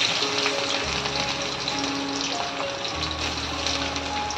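Garlic dropped into hot oil with mustard seeds in a kadhai for dal tadka, giving a steady, close hiss of sizzling that holds at an even level throughout.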